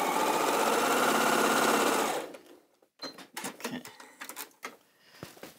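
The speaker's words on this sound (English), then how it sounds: "So we're sewing our rows together." A sewing machine runs fast and steady for about two seconds while quilt rows are stitched together for a Moda kimono quilt, then stops, followed by quieter handling noises and intermittent talking.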